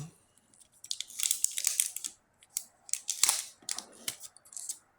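Trading card packaging being opened at a Comic-Con unboxing, with bursts of crinkling, tearing wrapper and crisp rustling in irregular clusters, close and fairly loud, with brief quiet gaps between.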